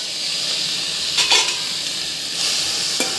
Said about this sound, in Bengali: উস্তাগুলো চুলায় দিয়ে দিলাম ফ্রাই প্যানে।